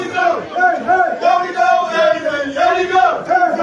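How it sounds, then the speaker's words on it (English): A crowd at a money pool match, race to 21, cheering and calling out loudly and continuously for a player, with overlapping voices shouting up close. "as you can hear, the cheering squad supporting Aden Joseph has awakened up"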